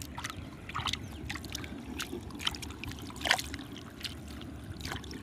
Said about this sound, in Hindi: सबसे पहले हम जो है इस खेत से पानी को थोड़ा सा निकालेंगे